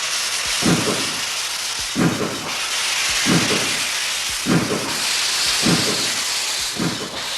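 A steam locomotive hisses steam in a loud, steady roar, broken by regular deep chuffing bursts about every second and a half.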